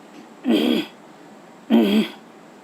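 Two rough throat-clearing sounds during a breathing exercise, each about half a second long, separated by a pause, close to the microphone and alone.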